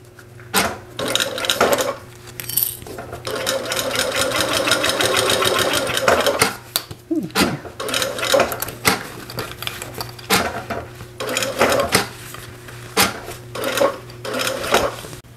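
Sewing machine stitching a faux leather wallet: a close, fast mechanical rattle running for several seconds, then stopping and starting in shorter bursts, with clicks and handling knocks between runs.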